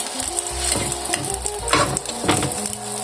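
Blue shark fish frying in a garlic butter sauce, a dense close sizzle broken by several stirring scrapes and bursts of spattering, fairly loud with no voices.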